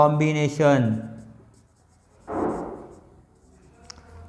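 A marker or chalk scratches briefly across a board during a seventh-grade algebra lesson, one short stroke after a teacher speaks, then quiet.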